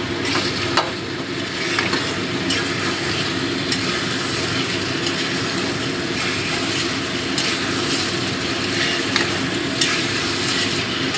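Spice masala sautéed with hot water in a pan for a tangra fish curry sizzles loudly and evenly throughout, with occasional stirring scrapes and small pops.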